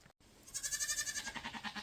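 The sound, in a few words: goat bleating on a small farm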